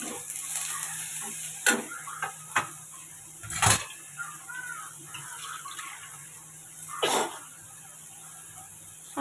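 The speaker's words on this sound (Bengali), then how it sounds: "আবার একটু নাড়িয়ে নেব।" Spiced potato curry with green chillies and salt is stirred in a pan, giving a soft low sizzle with a few sharper scrapes of the spoon, quiet and close with no talking.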